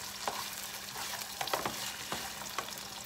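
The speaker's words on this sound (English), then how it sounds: "the potatoes are starting to cook" Potatoes sizzle and crackle steadily in a pan, a close, continuous frying hiss broken by a few sharper pops and stirring scrapes, with no talking.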